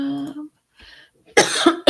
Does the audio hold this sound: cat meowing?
no